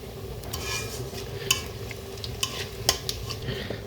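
Chopped onions with cumin seeds being stirred in a hot pan, a steady low sizzle under scattered metallic scrapes and clinks of the spoon against the pan, with no talking.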